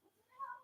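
A house cat, Binks, gives a single short, soft meow close by in a quiet room.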